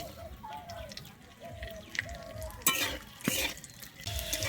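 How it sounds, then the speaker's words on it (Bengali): Cashews and raisins fry in ghee and white oil, a soft steady sizzle broken by stirring scrapes and a couple of louder clatters of a spoon against the pan. "আমি এখানে নিয়েছি কাজু আর কিশমিশ আমি প্রথমে এটা ভেজে নেবো"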